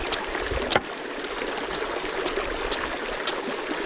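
Steady broadband rush of river water flowing along a stream bank near a hut, continuous and fairly close, with a brief sharp knock near the start and no talking.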